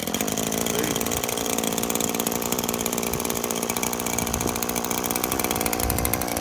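A small engine on mowing equipment runs at a steady, loud, buzzing idle after being started without the choke, heard close and continuous with no talk.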